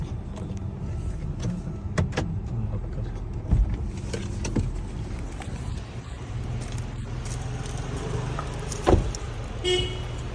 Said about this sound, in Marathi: त्यांची गाडी पार्क करतील